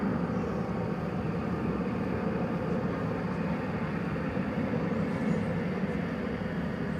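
American Airlines Boeing 737-800 departing DFW Airport, its engines a steady, fairly distant rumbling roar that stays even throughout, with no voices over it.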